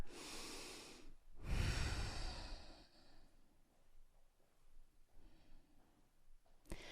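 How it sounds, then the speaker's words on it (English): Deep breathing during a yoga session, with a long, full inhale and a slow, audible exhale close to the mic, then quieter breaths and a small click near the end, and no speech. "One more deep breath in. And a deep breath out."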